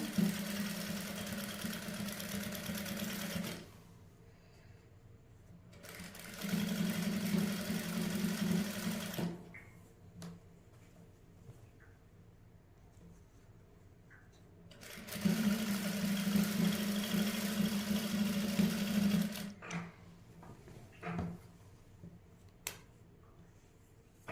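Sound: sewing machine stitching a dress neckline

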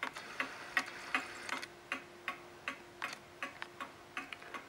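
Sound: Sessions Berkely model tambour style clock ticking

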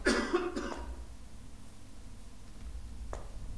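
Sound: someone coughing

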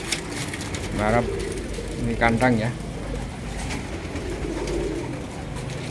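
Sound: pigeons cooing

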